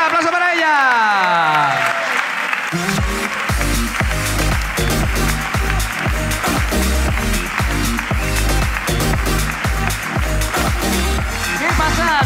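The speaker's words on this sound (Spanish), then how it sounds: "aplauso para ella" An audience at a live comedy show claps and cheers loudly for a couple of seconds, with a rising-and-falling whoop, before music kicks in and carries on over the rest.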